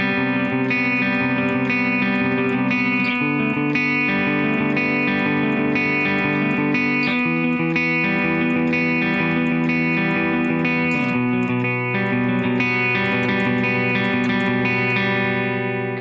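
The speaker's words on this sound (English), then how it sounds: "So what we're doing there is we're just using basic power chord shapes." Electric guitar in standard tuning plays power chords through the verse of a song, with a loud, sustained distorted tone and steady changing chords, no voices.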